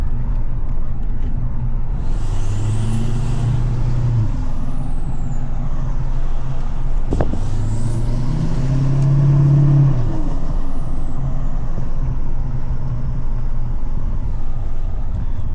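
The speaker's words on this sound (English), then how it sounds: "my favorite thing is going through neighborhoods with this truck" A tuned, deleted L5P Duramax diesel pickup truck rolls through a residential neighborhood, its deep exhaust rumble steady and loud throughout, swelling as the engine is pushed and briefly broken by a sharp hiss or click.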